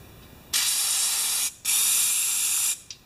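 Liquid is forced through a clogged passage in a Briggs Quantum engine, giving two sharp, steady hissing sprays of about a second each and a brief final squirt, close and clear.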